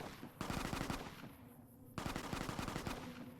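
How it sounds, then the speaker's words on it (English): Automatic gunfire in Fallout: New Vegas comes in two long rapid bursts of loud, rattling shots, each about a second and a half long, separated by a brief lull. "Bro, who is shooting?"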